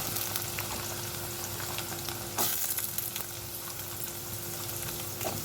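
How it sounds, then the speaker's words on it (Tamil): Chopped vegetables sizzle in oil with dried red chillies for Madurai-style pulikuttu, a constant close frying hiss with a brief louder burst midway and faint stirring, no voices. "இப்போ நம்ம கட் பண்ணி வச்சுருக்க எல்லா காயையும் அதில் சேர்த்துக்குவோம்"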